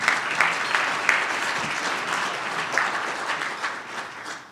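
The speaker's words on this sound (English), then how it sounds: "Let's give her another round of applause." Audience at a State of the City event applauds, a dense sustained wash of many hands clapping with a few sharper claps poking out, steady throughout and fading slightly at the end.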